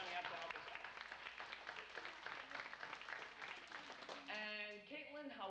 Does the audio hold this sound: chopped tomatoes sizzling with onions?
no